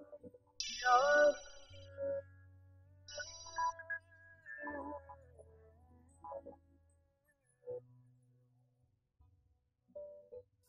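A telephone rings in a Pakistani drama scene, sounding as a few short electronic ringtone bursts with gaps between them, fairly quiet and set against soft background music tones.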